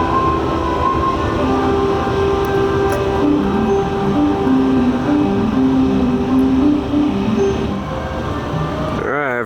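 Ice Breaker roller coaster train at SeaWorld Orlando backing out of its station during test runs, a continuous rumbling roll with clattering wheels and shifting mechanical tones, with people talking over it, ending in a rising whine.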